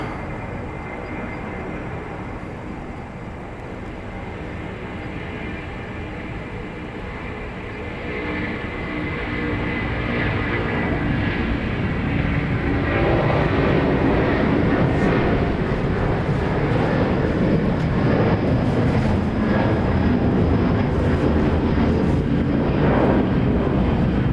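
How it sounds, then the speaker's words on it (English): A Korean airliner on its takeoff roll at Incheon airport, a broad steady jet roar that swells after the first several seconds and holds loud, with wind buffeting the microphone. "Another Korean airplane on the roll."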